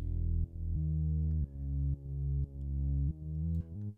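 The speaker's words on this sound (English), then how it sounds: "So a lot of reverb sounds like this." Bass guitar notes drenched in heavy reverb in Logic Pro X, a string of deep, sustained tones played alone, each swelling and blurring into the next without any voice.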